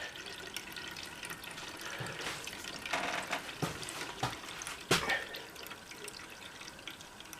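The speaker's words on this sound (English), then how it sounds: "I just let it drain out into a cup, and that lets me see whether it's got water or not in it." Liquid from a Toro lawnmower drains into a cup in a steady, faint trickle, with a few louder splashes and drips, and no voices.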